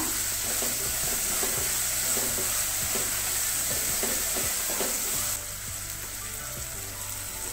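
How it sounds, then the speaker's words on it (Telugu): Ground masala for a village-style mushroom curry fries in a pan with a continuous close sizzle and crackle, steady and loud throughout. "మసాలా వేగనిద్దాం"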